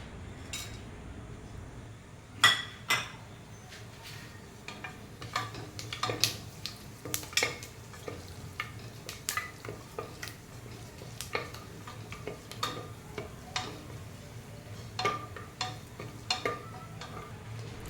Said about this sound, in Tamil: அப்புறம் வந்து பட்டை, கிராம்பு, ஏலக்காய், கொஞ்சோண்டு சோம்பு இது எல்லாத்தையும் போட்டு நல்லா வதக்கி எடுத்துக்கணும்